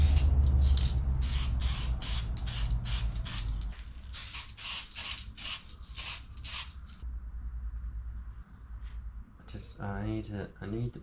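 Car interior trim pieces being spray painted with an aerosol can, a rapid series of short, loud hissing bursts in quick rhythm, with someone talking underneath.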